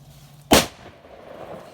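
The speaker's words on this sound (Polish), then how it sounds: "No, to była jakaś petarda, nie?" A single sharp bang from a strong Piromax firecracker made for scaring wild boar, loud and close, with a brief rumbling tail fading into quiet outdoor ambience.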